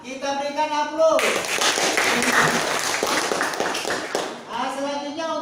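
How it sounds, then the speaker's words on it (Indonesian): A class of students gives a burst of applause after a discussion group's presentation, with dense, moderately loud clapping lasting several seconds. Speech is heard before and after it. "Baik, untuk berikan aplaus."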